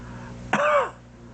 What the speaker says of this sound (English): I want you to cough.